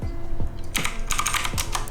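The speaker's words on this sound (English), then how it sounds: "What makes a mechanical keyboard so good is that clicky noise it has when it registers the keystroke." Clicky keystrokes on a budget mechanical keyboard land in quick, uneven bursts, loud and close, with sharp high clicks and low thuds and no talking.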